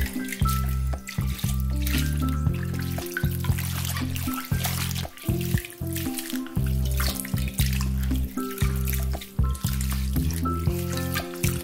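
Cooked medium-thick wheat noodles are rinsed under cold running tap water in a sink, a steady close splashing stream that runs unbroken throughout.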